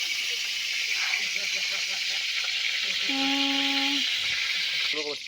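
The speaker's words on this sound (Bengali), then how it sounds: "একটু জল ছিল হাতায় খুন্তিটার মধ্যে, সেই জন্য জলের ছিটুটা লাগছিল" Hot oil in a heated pan spits and sizzles where a little water has got in from the ladle. The hiss holds steady and bright throughout, with some quieter talk and kitchen clatter underneath.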